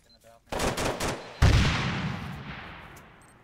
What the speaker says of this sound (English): you got an enemy machine gun right there